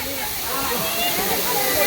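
A waterfall in the Bhimshankar jungle roars as a steady, loud broadband wash of falling water, with faint voices of people enjoying themselves beneath it.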